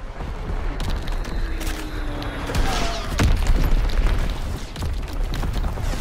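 A grenade explosion in Call of Duty: WWII lands as a single deep boom about halfway through, over a steady rumble of game noise and scattered gunfire.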